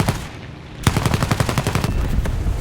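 Rapid bursts of machine gun fire from a J20 aircraft in War Thunder rattle out loud and close after a short quiet stretch, a fast continuous rhythm of sharp reports, no talking.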